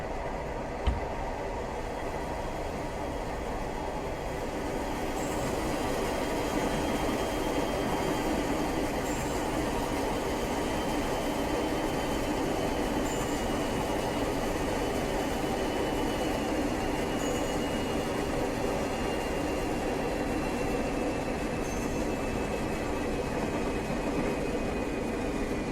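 Class 40 diesel locomotive hauling its train in Train Simulator Classic, a steady engine drone and rolling rumble with rail noise running continuously and evenly throughout, loud and close with no voices.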